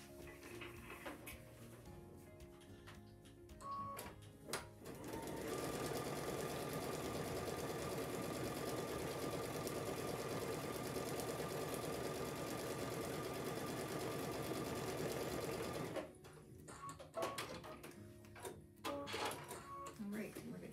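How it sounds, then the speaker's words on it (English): A sewing machine stitches a quilt panel in one long, steady, close whirring run, with soft handling noises before and after. "I'm going to sew on line number 2."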